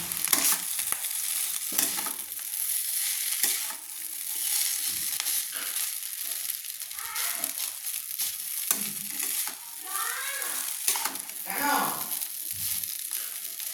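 Chowmein being stirred and tossed in a hot pan after salt is added, with sizzling and repeated scraping and clattering of a utensil throughout; a voice talks intermittently over it.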